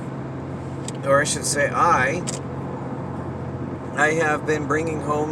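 Interior of a car moving along a road, a constant low engine and road rumble that continues beneath someone talking in two bursts.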